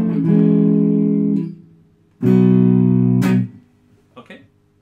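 Electric guitar played alone with effects, the introduction notes of a song: a long sustained chord, then a second chord with a sharp pick attack, then faint trailing notes.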